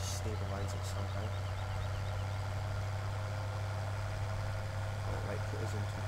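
A borrowed tractor's engine idles with a steady low drone throughout a farming video game, a constant mechanical hum under occasional voice.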